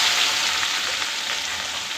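Onions frying in a pan for an ivy gourd gravy give a steady, close, even sizzle that holds without a break, with no voices over it.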